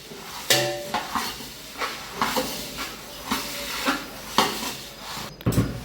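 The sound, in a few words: stirring puffed rice (mamra) in a pot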